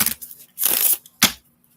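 Oracle cards are shuffled by hand in two or three quick riffling swishes, close and soft, with brief gaps between.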